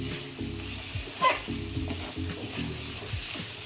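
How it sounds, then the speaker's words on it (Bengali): Cut potatoes fry in hot oil in a pan while preparing paneer ghugni, a steady close sizzle with a brief sharp clink of the spatula partway through and no talking. "কেটে রাখা আলুগুলো দিয়ে দিলাম, দিয়ে একটু ভাজবো"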